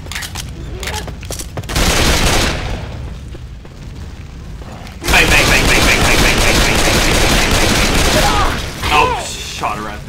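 Bursts of rapid automatic gunfire in Left 4 Dead 2 ring out loud and close, a short volley followed by a pause, then a longer sustained stretch of firing with mechanical clatter.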